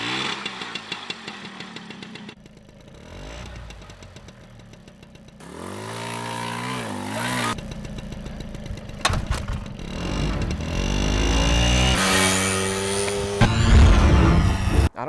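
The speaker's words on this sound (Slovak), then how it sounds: "sme mikrofón pripaskovali k tej motorke a jazdili tým po ulici" A moped engine revs and drops while riding along a street, with the microphone taped to the bike itself, so the raw, buzzy motor sounds loud and close, rising and falling through gear changes with no talking.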